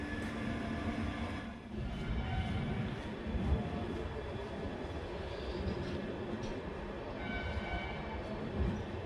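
An LHB Kolkata-Radhikapur Express train runs along the track, a loud, steady rumble and rattle of rail wagons heard from inside the coach, with faint squeals rising over it.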